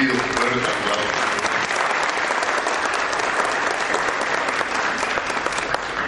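Strong, sustained applause from a conference audience at a human rights congress, a dense, steady roar of many hands clapping throughout with no pauses.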